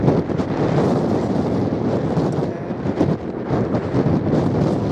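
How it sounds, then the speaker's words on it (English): Strong wind blows across an open field in Norfolk during metal detecting, buffeting the microphone in a steady, loud roar with gusty swells and no talking. "Oh, it's still windy out here."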